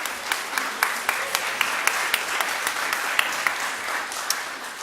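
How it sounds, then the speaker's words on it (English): An audience at a law review symposium applauds with scattered sharp claps standing out over a steady wash of clapping, continuous throughout. "I think the applause, speaks for itself."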